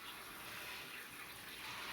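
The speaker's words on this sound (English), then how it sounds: "now I'm going to rinse the pasta out a little bit with some cold water" Cold tap water runs steadily over cooked ziti pasta in a kitchen, a continuous broadband splashing rinse with no voices over it.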